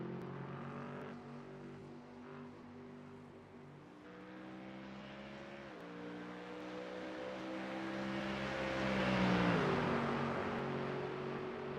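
A GT3 race car in a racing video game at Spa, its engine droning steadily with rising and falling pitch through gear changes and a swelling acceleration near the end, with no talk over it.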